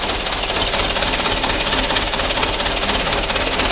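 A Mitsubishi Canter 125 truck engine with its cab raised idles roughly, giving a loud, close, continuous clattering rumble with a steady knocking pulse.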